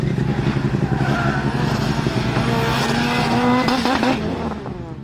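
Loud Lancia Delta Integrale with its 2-liter turbocharged engine revving hard under acceleration, a dense sustained roar with rising pitch sweeps and a brief tire-squeal edge, with no talk over it.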